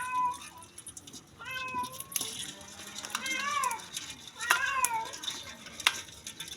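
Several cat meows, some rising and drawn out, spaced across a few seconds, with a faint watery background and household noise.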